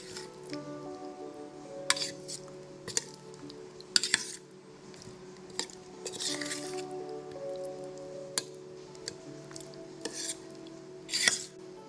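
Marinated paneer and vegetables get mixed in a bowl: soft, wet squishing with occasional clinks and taps of a utensil against the dish, close by and moderately quiet, over a faint steady hum.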